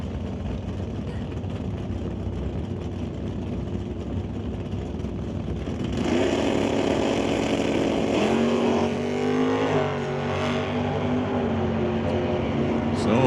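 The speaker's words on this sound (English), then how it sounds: "So certainly a nice launch for Rick McKinney." An 84 Oldsmobile Cutlass super stock drag car launches at a drag strip, its engine holding a steady rumble before rising to a loud, harmonic-rich roar as it pulls away, with the pitch shifting during the run.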